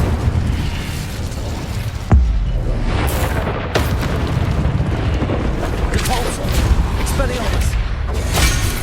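A fire spell cast mid-battle in the Hogwarts Legacy video game: a sharp burst near two seconds within continuous loud combat effects and rumbling impacts, with voices calling out throughout.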